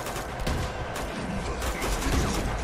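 Sustained gunfire in a combat scene of the video game Uncharted 2, set at a monastery, crackles in dense overlapping bursts, loud and continuous with no talking.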